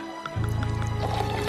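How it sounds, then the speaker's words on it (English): Beer is poured into a glass, a steady close gurgling fill that starts abruptly and continues with bubbly splashes to the end. "difficulty pouring a beer."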